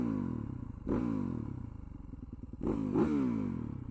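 A Yamaha YZ450FX supermoto motorcycle, left sitting for two years, with its engine running close by: a rough, lumpy idle broken by two sharp throttle blips that flare up and settle back, with no talk over it.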